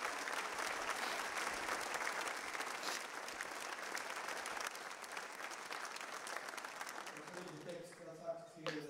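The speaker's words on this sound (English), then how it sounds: "Let's give tonight everybody who is involved tonight an applause." Audience applause at an evening remembrance event, a dense steady wash of clapping that fills the room for several seconds and thins slightly near the end, with a voice beginning over the last moments.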